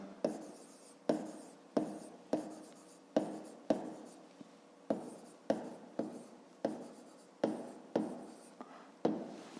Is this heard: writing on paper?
yes